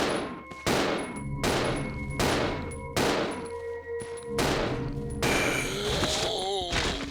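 Handgun gunfire in Resident Evil 0: a series of sharp, loud shots spaced roughly every second, each with a ringing decay, followed by a busier burst of impacts and game effects.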